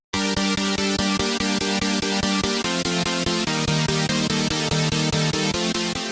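Chopped synth chords in a trap beat, rhythmically gated stabs over steady kick and hi-hat pattern, loud and dense throughout with no voice.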